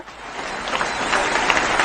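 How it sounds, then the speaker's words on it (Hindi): Audience clapping at a gathering honoring speakers and mentors at a direct-selling event in India, a steady wash of many hands that swells slightly and holds at a fairly loud, even level throughout. "Agarwal sir, Ramashish sir, Manoj sir के लिए जबरदस्त ताली होना चाहिए, क्योंकि यही हम लोगों को राह दिखाएं"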